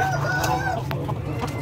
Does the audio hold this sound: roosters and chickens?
yes